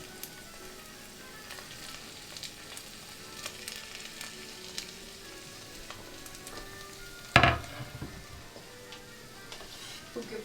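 Onion and mushrooms sizzle and crackle steadily in hot canola oil in a pan, with one sharp, louder burst of frying partway through, close and continuous.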